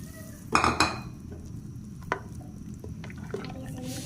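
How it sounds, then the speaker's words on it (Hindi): A spoon stirring chicken vegetable soup with cornflour in a pot, with clinking metal strokes and scraping against the pot over a low bubbling simmer, loudest near the start. "और चम्मच हिलाते रहेंगे और मिक्स करेंगे।"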